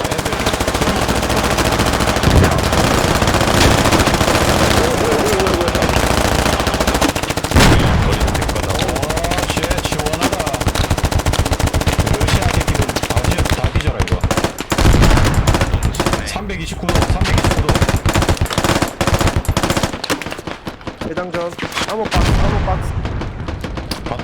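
Loud, near-continuous machine gun fire and explosions from a shooting video game, with dense rapid bursts throughout, and players talking over the gunfire.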